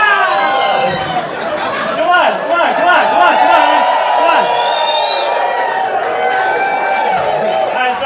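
A comedy club audience cheers, whoops and shouts loudly on cue in a dense, sustained roar lasting several seconds, with a brief voice calling out amid the din.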